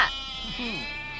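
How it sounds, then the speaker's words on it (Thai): A goat bleats up close in a rural Thai setting, giving a couple of wavering, nasal cries that hold over a faint, steady background hiss. "นั่นเสียงแพะป้าหรอ"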